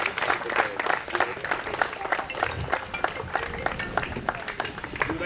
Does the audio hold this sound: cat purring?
no